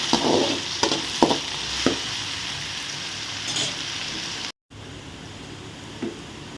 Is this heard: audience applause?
no